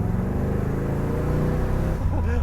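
A 1966 Chevrolet Corvette 427 V8 engine hums steadily at highway cruising speed, low and close, with a brief rise in revving toward the end.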